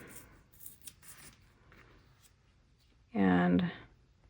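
A single crisp snip of scissors cuts paper for a Happy Planner vertical layout, loud and close, after quiet rustling and soft talk.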